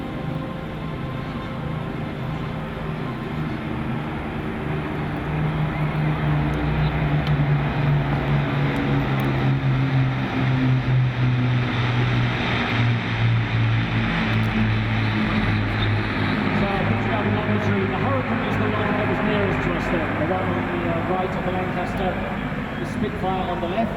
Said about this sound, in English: Spitfire on the left, so the Hurricane is a Mark 2C, the Spitfire is a Mark 16, and the Spitfire is being flown by Justin H